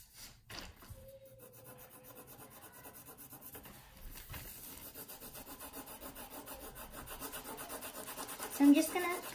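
Colored pencil being sharpened, a faint rhythmic scraping and grinding of blade on wood that repeats steadily and grows slightly louder, with a brief louder scrape near the end.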